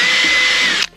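A power drill boring through the trunk lid of a Kia Stinger during a wing spoiler install, a steady loud whine for nearly a second that cuts off abruptly as the bit breaks through.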